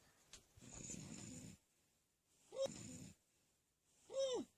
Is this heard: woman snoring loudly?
yes